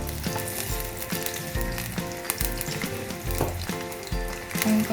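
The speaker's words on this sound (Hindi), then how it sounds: "ये हमारा ऑयल गर्म हो चुका है। अब हम इसके अंदर फ्राइज ऐड करेंगे।" Cut potato fries dropped into hot oil, a loud dense sizzle and bubbling that continues steadily and close, with no talk.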